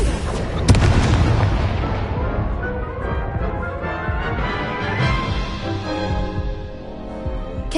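Confringo blast spell in a wizard game, a sharp booming explosion early followed by a long rumbling, crackling tail that fades out, loud and close with no talk over it.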